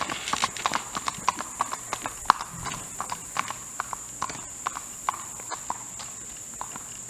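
Hooves of an 11-year-old smoky black gelding trail horse clip-clop in a steady, slow walk on a loose rein, each footfall crisp and evenly spaced, fairly close against a quiet background.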